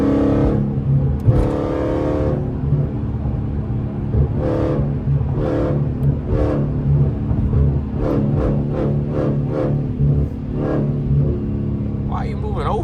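Catless Dodge Scat Pack V8 revving loudly in early-morning traffic, a continuous deep rumble with surging throttle blips, and voices talking over the engine throughout.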